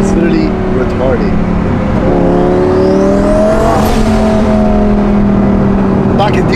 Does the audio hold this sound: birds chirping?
no